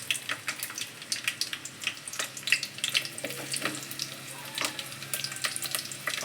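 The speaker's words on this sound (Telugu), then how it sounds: "ఆయిల్ వేడయ్యాక మనం సన్నగా తరిగి పెట్టుకున్నటువంటి ఆనియన్స్ వేసుకుందామండి" Finely chopped onions crackle in hot oil for a Telangana mango and egg curry, a steady close sizzle with scattered pops and faint clinks of stirring, no voices.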